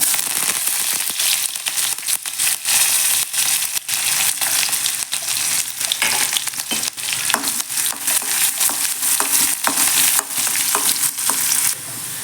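Onion and curry leaves fry in a pan with continuous sizzling and crackling, broken by stirring scrapes, loud and close throughout without talk.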